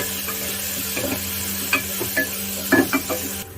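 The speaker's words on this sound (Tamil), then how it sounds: "இப்போலாம் பச்சை வாசனை போகிற வரைக்கும் நம்ம வதக்கி எடுத்துகிட்டு போகிறோம்" Ginger-garlic paste sautéing in a pan while cooking a kulambu, a continuous soft sizzle under a low hum, broken by several sharp spoon scrapes and taps toward the end.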